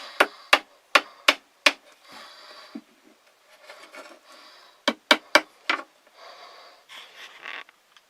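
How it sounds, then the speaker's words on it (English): A hammer strikes a nail into wood while a French bird trap is built, with sharp close blows in quick bursts of five and four. Softer scraping and rubbing of wood fills the gaps between them. "I'm going to hammer a nail."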